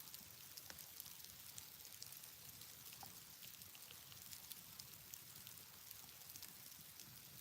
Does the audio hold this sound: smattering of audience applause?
no